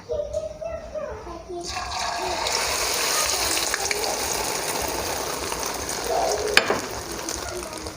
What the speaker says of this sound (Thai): เราก็จะเทไข่ที่ผสมกับมาม่าลงไปนะคะ